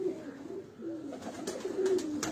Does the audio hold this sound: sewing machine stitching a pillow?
no